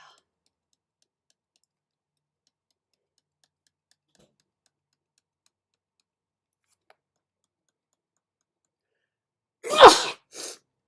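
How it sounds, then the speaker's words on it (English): Nearly silent stretch, then a single sudden sneeze followed by a brief, quieter second burst near the end. "And more sneezes"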